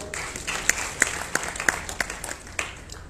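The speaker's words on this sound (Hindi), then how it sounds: "ताली बजाओ।" Scattered applause from an audience at a Marathi comedy poetry gathering, quiet and thin with a handful of sharper claps standing out against soft crowd noise.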